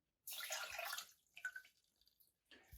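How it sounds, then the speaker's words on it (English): A short rush of about 100 millilitres of water splashes into a pot for about a second, followed by a few faint drips and small clinks. "add the water"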